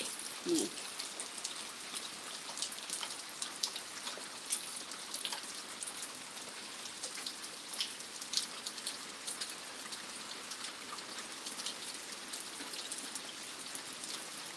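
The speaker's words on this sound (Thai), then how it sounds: "นี่ฝนตกฝนตก" Steady rain falls around a rural house in Laos, a constant hiss of drops pattering on surfaces with a few louder individual splashes, and no voices.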